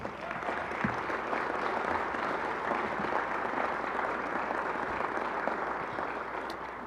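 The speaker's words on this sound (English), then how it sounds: "I think that deserves a broader round of applause." Audience at a mayor's State of the Government address in Kansas City, Kansas, breaks into a broad, sustained round of applause, a thick even wash of clapping heard from within the room.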